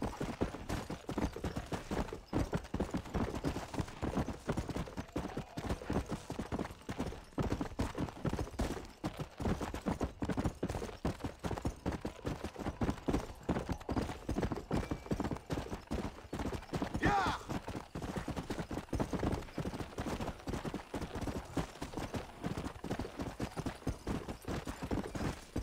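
Horse hooves gallop in a steady, rapid clip-clop rhythm throughout the Red Dead Redemption western video game, loud and continuous with the sound of the ride dominating.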